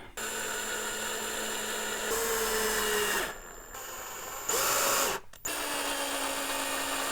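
Steady high whine of a power drill driving screws into wooden panels of a Teamson Kids Little Chef Florence toy kitchen, continuous and close, with a few brief stops and changes in pitch.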